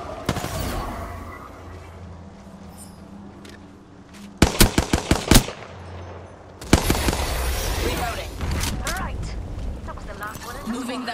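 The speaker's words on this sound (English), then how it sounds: "I'm under fire" Rapid bursts of automatic gunfire in the battle-royale shooter Apex Legends, loud sharp cracks in two clusters over a steady game-sound bed, with a voice heard in between.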